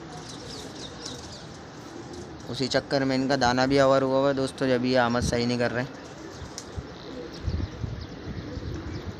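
Pigeons coo softly in the background while someone talks close by through most of the clip, with faint chirps and rustling around them.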